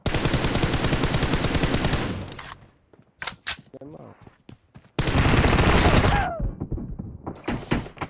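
Video game gunfire in two loud sustained automatic bursts separated by a quieter gap of single shots and clicks, with talk in between.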